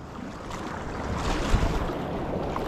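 Choppy sea water sloshes against the hull of a small boat, a continuous wash with wind rumble and one brief heavier slap.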